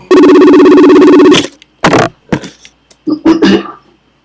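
A FaceTime call ringing, a loud repeating electronic ringtone pattern for about a second and a half, then stopping and followed by a few sharp clicks and short electronic tones.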